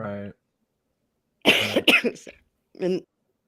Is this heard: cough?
yes